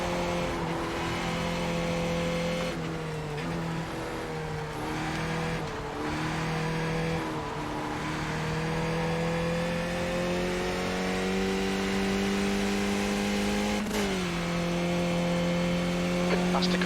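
Race car engines roar steadily in the iRacing sim during a Skip Barber test session, a loud continuous drone whose pitch climbs and drops with gear changes, with a sharp shift near the end and no talk over it.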